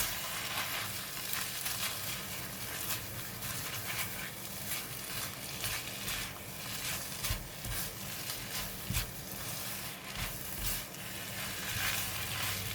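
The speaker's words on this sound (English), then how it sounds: "Put in the sugar, fish sauce, and now we can stir fry it" Tom yum paste, sugar and fish sauce are stir-fried for fried rice, a steady soft sizzle under repeated scraping and tossing of a spatula in the pan, fairly quiet and continuous, with no talking.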